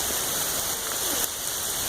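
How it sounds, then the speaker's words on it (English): Heavy rain pours steadily through a thunderstorm, a dense, continuous hiss close by and outdoors with no pauses and no thunder rumble standing out. "This is not the storm you want to be out in when it's raining like this."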